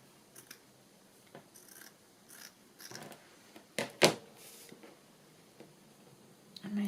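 Scissors snip through a thick piece of paper at close range for a boho journal craft, giving a few short, crisp cuts spread across several seconds with quiet handling sounds between them and no talking.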